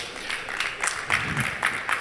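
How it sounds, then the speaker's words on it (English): A studio audience applauds the house band on a late-night show stage, with steady broadband clapping and periodic louder swells running through the whole stretch. "Give them a big round of applause."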